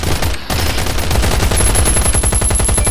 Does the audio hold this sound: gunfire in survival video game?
yes